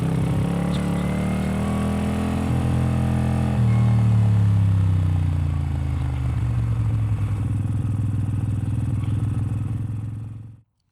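A 1981 motorcycle rides up at close range, its engine droning steadily with shifting pitch and rough clatter, then shuts off abruptly.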